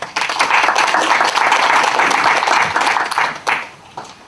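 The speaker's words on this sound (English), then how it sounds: "Round of applause for Bill Francis." Loud applause from a conference audience after a speaker's introduction at an interfaith cultural gathering, dense clapping that swells and holds, then fades out near the end.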